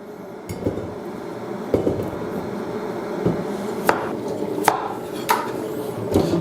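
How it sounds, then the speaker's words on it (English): A knife chops potatoes into small pieces on a board, sharp separate knocks at uneven intervals with some clinks of kitchenware, close and fairly loud, with no talking. "Cut them small parts so they will cook really fast."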